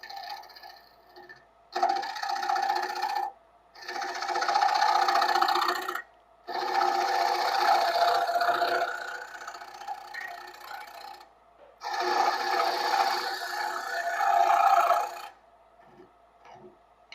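A lathe tool takes light cuts into a cherry wood tenon on a live edge piece, a scraping, buzzing hiss in several separate passes of a few seconds each, broken by short pauses.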